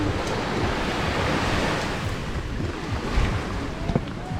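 Ocean waves roll and wash onto a beach in Bermuda under gusts of wind buffeting the microphone. The surf is steady, with a few small splashes and no voices.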